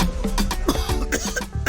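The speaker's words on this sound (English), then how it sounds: "this cough is serious" A passenger on a bus coughs in a dramatized scene about a serious cough: several rough, close bursts in quick succession over a busy background, with no clear talk.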